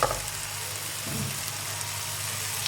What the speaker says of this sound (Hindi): अब इसमें डालेंगे अपनी बंद गोभी